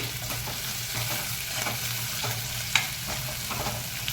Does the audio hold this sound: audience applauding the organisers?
no